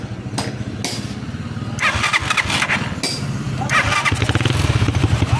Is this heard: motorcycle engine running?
yes